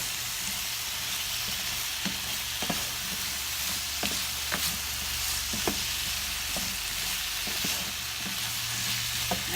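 Potatoes frying in a pan for breakfast, a steady close sizzle with regular light taps and scrapes from stirring.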